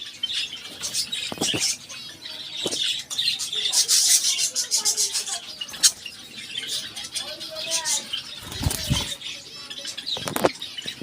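Budgerigars breeding in a cage chirp and chatter continuously close by, with bursts of wing flapping and rustling scattered through.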